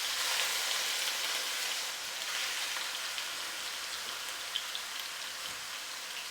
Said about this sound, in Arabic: بس يسخن الزيت بنزل عليه قطع صدر الدجاج.